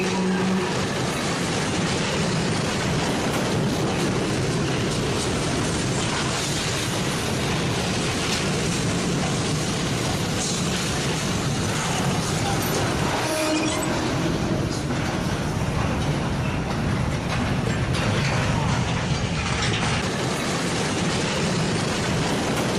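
A train whose rear cars have separated, caught on a security camera: a dense, loud, continuous roar and rumble that stays steady with no break from start to end.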